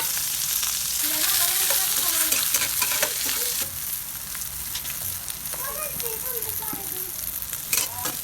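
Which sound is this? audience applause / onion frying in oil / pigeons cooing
onion frying in oil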